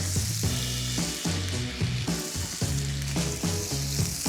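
A lamb fat cap renders in a hot pan with a loud, continuous crackling sizzle that stays close and steady throughout, over a rhythmic tonal backing.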